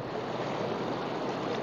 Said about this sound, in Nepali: ठुलै छ खोला चाहिँ